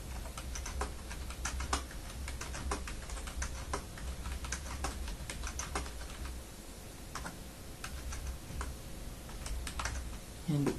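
Rapid keystrokes on a computer keyboard while retyping numbers into a spreadsheet, close and steady with irregular clicks over a low hum for about ten seconds.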